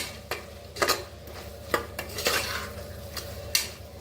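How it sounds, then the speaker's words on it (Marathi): Masala spices with coriander powder being mixed and roasted in a pan for masala rice, with a spoon scraping and clinking against the metal in scattered strokes over a faint, steady background hiss. "आता छान मिक्स करून घेऊया. बघा छान असा मसाला भाजून घ्यायचा."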